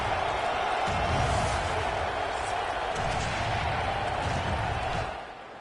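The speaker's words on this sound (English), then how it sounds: "This crowd bringing the energy and noise early." Steady roar of a large stadium crowd in the video game College Football 26, loud and continuous with swelling cheers, a broadcast-style ambience that fades slightly at the end.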